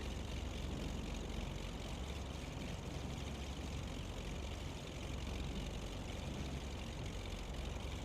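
Beechcraft Baron twin-engine propeller plane rolling along a runway in a flight simulator, a steady, even engine drone and rumble with no pauses and no talking.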